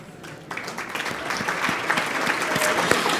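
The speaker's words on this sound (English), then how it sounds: "Let's have one more round of applause" Audience at a community awards ceremony breaking into applause, clapping swelling quickly and building steadily louder and denser, close and full.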